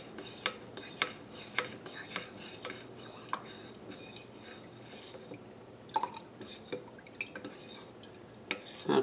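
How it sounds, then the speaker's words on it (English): A deodorant mixture with vegetable glycerin being stirred in a container, giving soft scraping and clinking taps of a utensil with drippy liquid sounds, irregular and close, with no talking. "I'm going to give it a stir"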